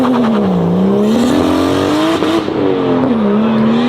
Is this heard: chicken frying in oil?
no